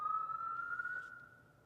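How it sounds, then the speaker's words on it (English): Ambulance siren on a busy New York street, a steady wailing tone held loud and close for under two seconds before easing slightly, with traffic rumble beneath and no voices. "You got these ambulances here."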